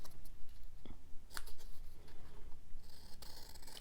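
Scissors snip through paper for a junk journal cover in a few quick, close, quiet cuts amid soft rustling handling noise.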